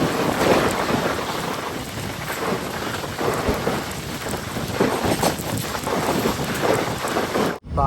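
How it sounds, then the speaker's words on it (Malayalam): Steady rain heard from a morning train journey out of Palakkad. It keeps up a dense, loud wash with rumbling underneath, then cuts off abruptly just before the end. "മഴയത്തുള്ളൊരു ട്രെയിൻ യാത്രയാണ്."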